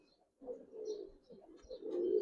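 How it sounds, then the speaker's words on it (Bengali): A pair of Giribaz pigeons cooing in low, soft, rolling bursts nearby, with a short pause before the calls resume and swell louder toward the end. "কত সুন্দর কবুতর মাশাআল্লাহ"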